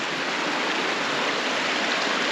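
The Hann River on Cape York rushes along after heavy wet-season flows, a steady, full roar of running water close by with no voices.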